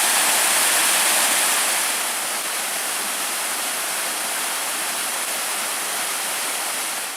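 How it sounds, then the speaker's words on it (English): A waterfall about eight feet high in Michigan's Porcupine Mountains roars in a steady, loud, close rush of white water, unbroken and alone. "It's a beautiful waterfall."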